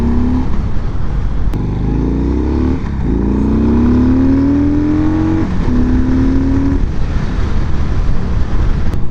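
A 2025 Harley-Davidson Softail cruiser's engine pulls up from low RPM, a loud close-up drone whose pitch climbs steadily, then dips at a shift and rises again.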